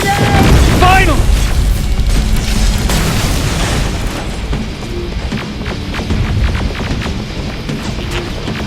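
Rocket explosion in Terminator Resistance: a loud, heavy boom at the start, then rolling rumble and debris crackle that slowly fades, with a voice shouting over the opening blast.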